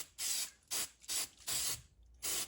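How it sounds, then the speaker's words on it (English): An aerosol spray can hisses into a bag in five short, sharp bursts of uneven length, close and alone, with brief quiet gaps between each spray. "I'm going to spray this again in the bag."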